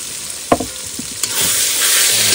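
Chicken curry with yogurt and tomato sizzles and fries in a pan by a Sundarbans river, with a few spoon stirs and scrapes over a steady hiss and no talk.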